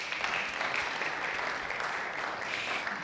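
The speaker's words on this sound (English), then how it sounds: "You can give him a round of applause." An audience at a film screening gives steady, fairly faint applause, a continuous soft wash of many hands clapping with no voices over it.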